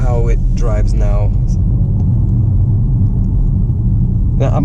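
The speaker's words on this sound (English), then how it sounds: "let's take the car out and see how it drives now" A BMW M140i running a Bootmod3 Stage 2+ tune drives along with a steady low engine and road rumble, loud and continuous, while someone talks over it at the start and again at the end.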